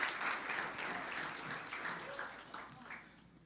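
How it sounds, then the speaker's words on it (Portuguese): Applause from a church congregation, a steady wash of many hands clapping that slowly fades, with some voices mixed in. "Uma salva de palmas"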